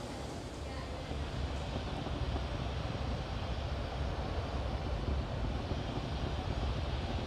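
A SpaceX Falcon 9 rocket accelerates during a Starlink launch, a steady, dense broadband roar that holds at even loudness throughout without any break.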